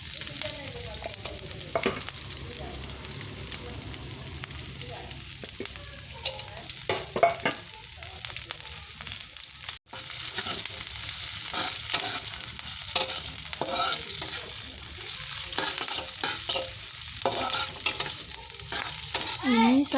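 Chilies sizzle and crackle steadily in hot oil while a utensil stirs and scrapes the pan at intervals, close and continuous with a brief pause in the middle.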